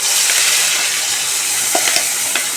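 Ground paste of curry leaves, coriander and mint fries in hot oil with a steady, loud broadband sizzle, broken near the end by a few clicks and scrapes of stirring.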